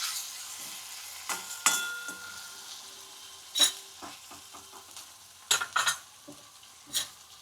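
Vegetables stirred and sautéing in oil in a pan over a lowered gas flame, with a soft steady sizzle and a few sharper scrapes and clicks of a spoon against the pan.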